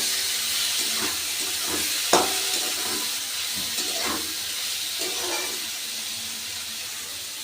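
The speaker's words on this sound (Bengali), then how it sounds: "এবার উচ্ছগুলোকে আমি একটু নাড়াচাড়া করে নেব" Salted bitter gourd, wet with the water drawn out of it, stirred in a hot pan: a broad, steamy hiss with several soft, spaced scraping strokes, one a little sharper, close and without speech.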